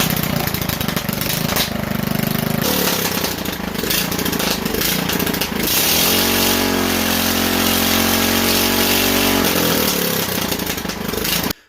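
An engine runs loud and steady, revving up toward about 5,500 RPM. A droning harmonic tone holds fairly even through the middle stretch, with no talking.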